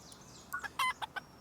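Several short chicken clucks from a video game featuring collectible creatures and farm animals, a quick burst of five or six sharp calls at moderate volume with no talking.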